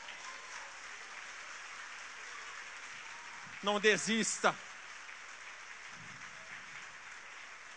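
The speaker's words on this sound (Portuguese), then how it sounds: "Perseverantes, aplaudam o Senhor." A church congregation applauds in sustained, moderately distant clapping, while someone speaks briefly over it.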